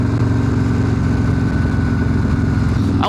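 A Perewitz custom Harley-Davidson Softail Slim motorcycle engine running loud and close, a steady throbbing V-twin rumble with a rhythmic lumpy pulse held throughout, rising slightly at the very end.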